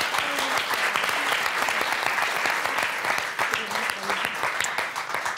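A television game show studio audience claps warmly for four contestants, a thick, even wash of applause with a few voices faintly underneath.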